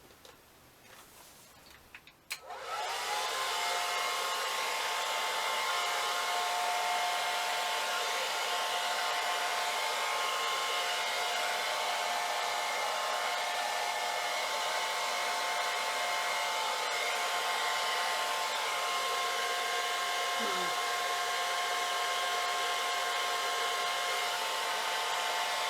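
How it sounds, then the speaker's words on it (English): A hairdryer switches on after a couple of seconds of handling noise, then blows steadily and loudly over a Dutch-style acrylic paint pour, a continuous airy whine that holds for about twenty seconds. "And now I will just run the hairdryer across that."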